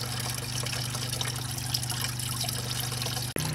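Antifreeze runs steadily from a plastic drain petcock on a car radiator, a continuous close trickle and splash with a low steady hum behind it, stopping abruptly near the end.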